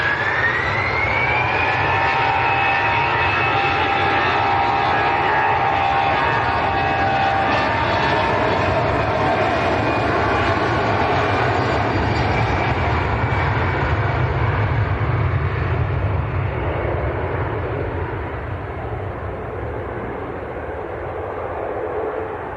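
An ITA Airways airliner taxiing at Manchester Airport, its jet engines giving a loud, steady whine and rumble that holds throughout, with a rising high tone early on and a slight fade near the end.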